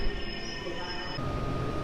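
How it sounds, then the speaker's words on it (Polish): A PKP Intercity express train hauled by an EU200 locomotive pulls into Warszawa Zachodnia station at night, a steady rumbling roll with a thin high whine that cuts off partway through, leaving a lower mechanical drone. "Pociąg przyjechał kilka minut przed czasem, a skład przyprowadziła EU200."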